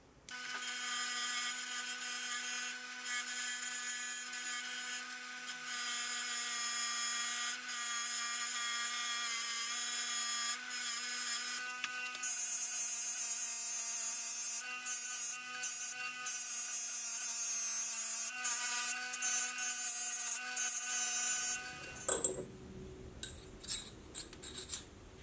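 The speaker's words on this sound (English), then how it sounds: "I'll follow it up on the bench grinder." Bench grinder running steadily as it strips oil residue from a die wrench, a continuous whine held for about twenty seconds before stopping, followed by a few brief clunks and handling noises.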